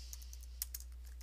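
Brief run of computer keyboard typing as a word is entered into a Photoshop text field: a handful of light key clicks spread over about a second, faint against a constant low hum.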